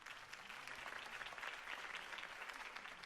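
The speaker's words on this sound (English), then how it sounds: "If only Mr. Wayne, my campaign's largest backer, could have heard that applause" Party crowd in the Telltale Batman video game gives steady, dense applause at Wayne's house, an unbroken wash of many hands clapping at moderate volume for about three seconds, with no voices over it.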